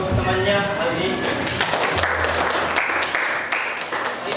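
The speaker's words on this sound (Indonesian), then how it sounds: "berikan tepuk tangan untuk temannya Aldi." Students clapping in a classroom during a lesson, loud and busy applause that carries on throughout, with voices mixed in.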